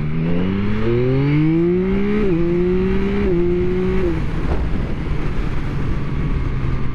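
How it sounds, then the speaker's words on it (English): A 2023 Yamaha MT-09 SP motorcycle engine and exhaust rev hard, a deep growl rising in pitch through several quick gear steps, then settling to a lower drone, close and loud with no talk. "The engine, the exhaust and engine on this bike sound phenomenal, and they kind of have a deep, kind of a nice deep growl to it."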